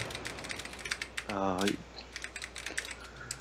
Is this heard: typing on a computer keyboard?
yes